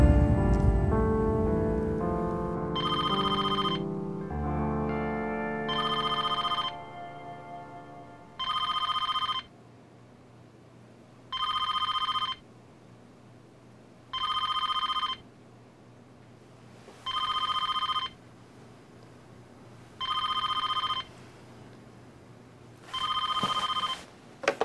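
A telephone rings repeatedly in a quiet room, with about eight evenly spaced bursts of electronic bell tone separated by short silences, after a fading musical passage at the start.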